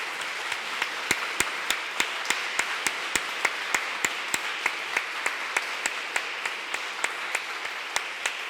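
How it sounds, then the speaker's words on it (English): Sparse, evenly spaced single claps ring out at an arts festivals summit in Peralada, Girona, a slow steady beat of sharp hand strikes over a quiet room hum with no talk. "So I would like, again, to give a big applause to Donika and Luana in particular"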